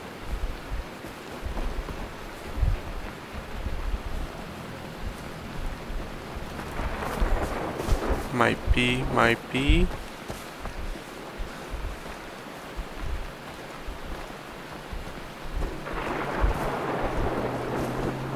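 Steady rain and rumbling storm noise in the jungle of the video game Far Cry 3, a continuous wash with low booming swells, while someone briefly talks over it.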